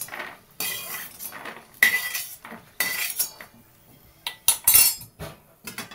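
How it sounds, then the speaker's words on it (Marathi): Roasted peanuts are scooped out of a pan with a metal spoon for curry leaf chutney, producing a series of close, bright scraping and clinking bursts separated by short pauses. "ते शेंगदाणे काढून घेऊया."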